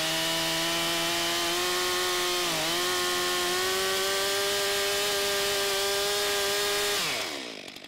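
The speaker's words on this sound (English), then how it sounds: "I used the chainsaw to make a groove so the wedge can start further down in the wood." Large gas chainsaw, a 72.2cc magnesium-case saw with a 25-inch bar and full chisel chain, cutting a groove into a big wood round: loud, sustained engine whine with a dip in pitch, then revving down and stopping.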